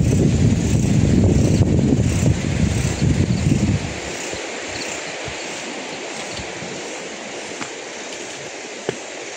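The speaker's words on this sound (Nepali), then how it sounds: "कस्तो मिठो हावा आयो" Steady wind rushes past on a forest road near Satyawati in Palpa, loud and gusty at first, then settling into a softer continuous hiss with faint scattered ticks.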